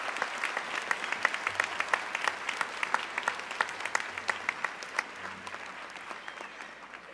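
An audience at a college graduation convocation claps steadily in a dense, even applause, with many individual claps clearly audible throughout and no voices over it.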